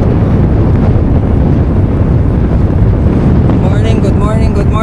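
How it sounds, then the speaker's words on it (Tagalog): Strong wind buffets the microphone on an outdoor road bike training ride in Saudi Arabia, a loud continuous roar with a faint voice near the end. "Lakas ng hangin."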